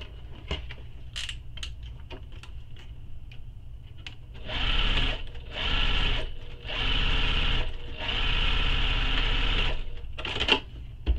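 A sewing machine runs in four or five close, steady bursts while stitching the side of a tote bag lining, with light clicks and handling noises before and between runs.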